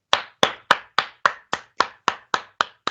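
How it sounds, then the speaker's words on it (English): Eleven sharp, evenly spaced hand claps and table taps in a steady rhythm, close and crisp, each a quick percussive hit with a short decay. "3 times clap, 3 times on the table, twice clap, twice on the table, once clap, once on the table"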